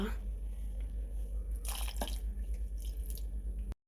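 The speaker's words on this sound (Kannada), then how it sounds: "ಈಗ ಇದಕ್ಕೆ ಸ್ವಲ್ಪ ನೀರು ಹಾಕುವ" Water poured into ground cream during homemade butter making, a brief splashing trickle near the middle over a steady low background hum, close and fairly soft.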